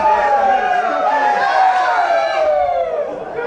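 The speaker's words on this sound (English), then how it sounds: "Plenty of woos from the crowd." A stadium crowd at a rugby league match between the Brixton Bulls and the Elmbridge Eagles lets out a long, wavering chorus of woos, with many voices rising and falling together, loud and steady throughout.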